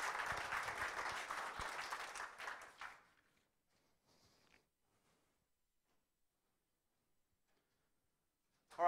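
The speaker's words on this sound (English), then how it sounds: "So let's give Brandon a round of applause." Audience at a 1 Million Cups Wichita startup pitch event giving a round of applause, steady close clapping for about three seconds that stops abruptly, followed by near silence and a faint rustle.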